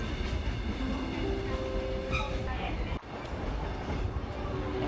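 A train rolls along between Kuranda and Cairns with a steady rumbling roar and faint rail squeals, heard from inside the carriage with quiet voices in the background.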